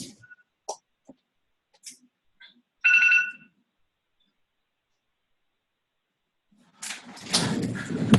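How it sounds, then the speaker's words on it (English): A short electronic ringtone burst sounds once, fairly close, amid scattered small clicks and handling noises, followed by rustling and movement. "I had an alarm for this meeting on"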